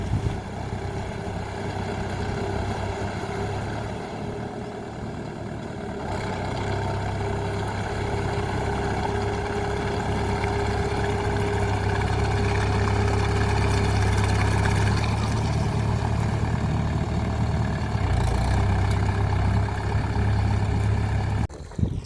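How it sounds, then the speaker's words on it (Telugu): A tractor engine drones steadily while puddling a flooded paddy field. The low, continuous rumble stays fairly close and even throughout, with no talking. "ట్రాక్టర్ ద్వారా ఒక మడ అయితే కరేట చేసిన"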